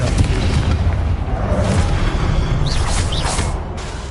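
A Confringo fire spell explodes in the video game Hogwarts Legacy, a loud, sustained rumbling blast with a couple of sharper bursts near the end.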